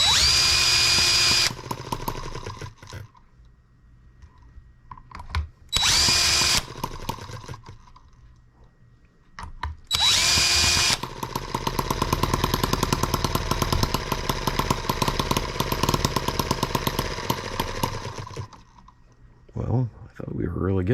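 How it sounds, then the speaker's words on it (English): A power drill bores into metal during work on a vaporizer carburetor tank, with several loud whining bursts, a long sustained grinding run in the middle, and pauses between. "I really need to find a bigger drill to start these with."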